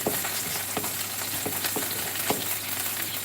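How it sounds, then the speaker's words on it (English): Food sizzling steadily in a ceramic non-stick pan, a constant bright hiss punctuated by a few soft clicks and stirring taps, close and alone. "the food is frying there"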